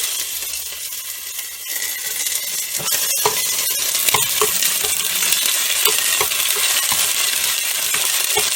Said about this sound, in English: I want to very lightly cook the onions